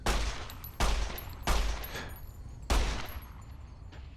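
Gunshots in Fallout: New Vegas: four sharp, heavy reports at uneven intervals, each ringing off into a decaying tail, with a small click at the very end.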